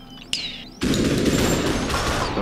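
Gunfire in the Superhot video game: a single sharp shot followed by a loud, sustained burst of rapid overlapping shots, close and dominant.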